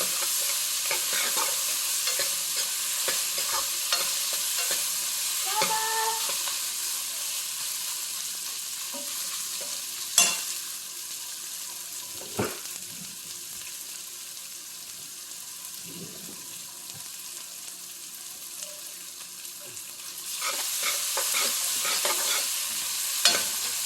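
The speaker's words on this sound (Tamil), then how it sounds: "இதிலே பச்சை மிளகாய் கட் பண்ணி போட்டுக்கிறேன்." Chopped green chillies sauté in hot oil for a hotel-style vada curry, a continuous sizzle with occasional stirring scrapes and clinks of a spoon against the pan.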